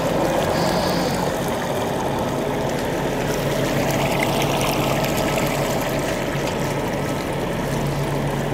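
Fluid is pumped through Limitless sleeves to push out a cement wiper dart, a loud, continuous rushing and churning that holds steady throughout without talk.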